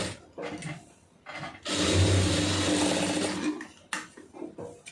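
A sewing machine runs in short bursts while stitching the pleats of a puff sleeve, with one longer steady whirring run in the middle and brief starts and stops on either side, close and fairly loud, with no voices.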